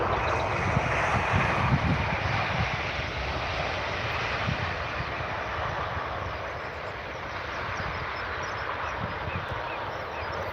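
A steady, broad jet roar from an airliner at Manchester Airport holds throughout, distant and even, with no voices over it.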